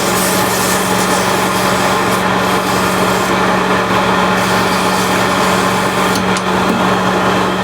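A Christmas ornament being sanded with 400-grit sandpaper, a continuous close rasping scrub under a steady mechanical hum, no talking.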